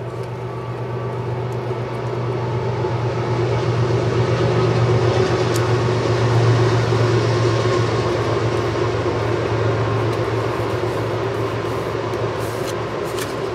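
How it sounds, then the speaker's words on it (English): An Amtrak passenger train passes by, a steady loud rumble with low droning hum that swells slightly mid-pass and stays continuous throughout, with no voices. "Oh, here comes the train. It's gonna get really loud."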